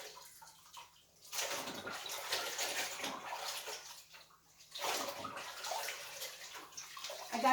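Clothes are washed by hand in water at an off-grid home during a power outage, with bursts of sloshing and splashing broken by short pauses, close and steady, and no talking.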